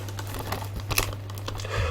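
Cellophane wrapping torn and crinkled off an Xbox One video game case, a close, continuous crackling rustle with a few sharper tearing spikes.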